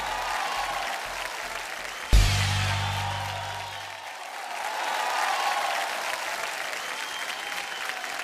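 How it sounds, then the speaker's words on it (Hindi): Audience applause and crowd noise welcoming comedian Krishna Abhishek onto the stage at the 5th International Bhojpuri Awards in Singapore, steady dense clapping that runs throughout, with a brief loud thump around the second mark. "जोरदार तालियों से स्वागत कीजिए कृष्णा अभिषेक"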